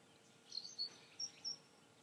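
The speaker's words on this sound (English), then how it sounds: "Birds are tweeting" Birds chirp outdoors in a quiet setting, giving four brief, faint high tweets spaced irregularly over a soft background hiss.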